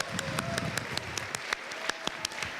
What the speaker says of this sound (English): let's give a round of applause to all 10 finalists for an amazing show